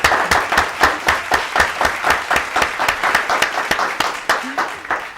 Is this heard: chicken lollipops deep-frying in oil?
no